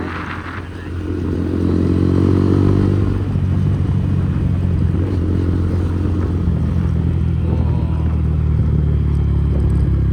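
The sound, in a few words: motorcycle riding, shifting gear down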